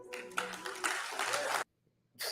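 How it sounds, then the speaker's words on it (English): An audience in a recorded sermon claps in a dense burst of applause lasting over a second, cutting off abruptly to near silence before another short burst of clapping starts. "you got the foolish people actually clapping for this stuff"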